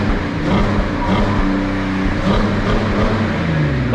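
Porsche Cayenne V8 running and driving, apparently on ethanol, with a loud, steady engine roar throughout and no one speaking.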